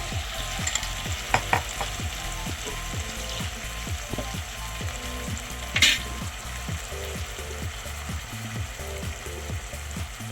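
Roasted green chillies stirred into a yogurt mixture in a pan over low heat, with steady sizzling and a regular series of scraping stirs, plus a couple of sharper clinks, no talking.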